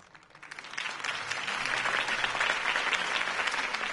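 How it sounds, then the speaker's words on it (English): Crowd applause in a video game bursts into sustained clapping, swelling quickly and holding steady and loud. "could have heard that applause"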